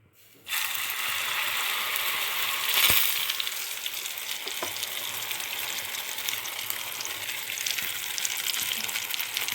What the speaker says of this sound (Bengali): এবার ডিমটা ভাজার জন্য তেল দিয়ে নিচ্ছি